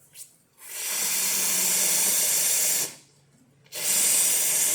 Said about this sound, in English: And of course, the hot water tap.